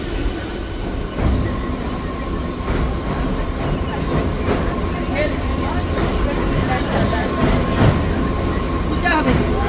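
A train creeps slowly along near Kharagpur, with a steady rumble and occasional clacks of the wheels over the rails. Passengers chatter faintly in the background.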